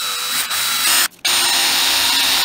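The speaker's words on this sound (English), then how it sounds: "Now, let's see what else it'll drill. This is a chisel bit for an air chisel." A drill bit grinds into a very hard air chisel bit with a loud, steady whine, cutting out briefly in the middle before resuming at full strength.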